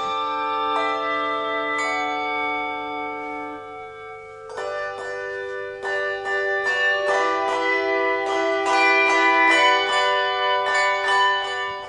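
A youth bell choir rings a set of tuned handbells, with layered sustained tones and a denser flurry of overlapping strikes building in the second half, close and clear with no talking.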